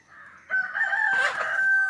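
A native country rooster crows once, a loud, drawn-out call held for over a second, close by, with no talking.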